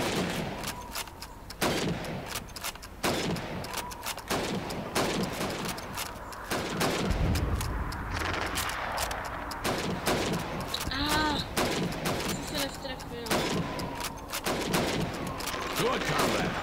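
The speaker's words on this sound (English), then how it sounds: "Now, let's see how well you can do under pressure. You have 15 seconds to shoot the helmets." Rifle gunfire rings out in Call of Duty 2 during a timed Red Army training drill of shooting helmets. Many sharp, close shots crack out at an irregular, fast pace amid game ambience and brief electronic chirps.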